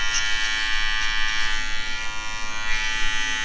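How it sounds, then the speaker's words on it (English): An electric hair clipper buzzes steadily and close up while cutting a skin fade with a light flicking motion and minimal blade teeth, holding one unbroken hum with no talking. "you start to do a little bit more of a flicking motion using minimal teeth on the clipper"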